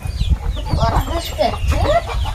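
Native village chickens clucking at close range, several overlapping clucks and short squawks over low rustling farmyard noise.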